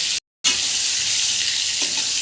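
Eggplant pieces fry in hot oil with a loud, steady, close sizzle. It cuts out completely for a brief moment near the start and then resumes unchanged, with a faint stir later and no voices.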